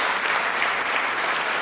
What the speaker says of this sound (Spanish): Vamos a repasarlo con un aplauso